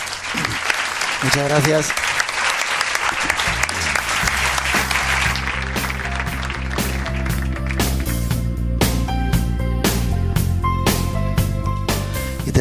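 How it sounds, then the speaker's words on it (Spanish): Loud audience applause at the close of a Spanish-language talk on declassified Pentagon UFO files, dense clapping sustained throughout, with someone speaking briefly over it and background music entering partway. "Os pido un aplauso para ellos."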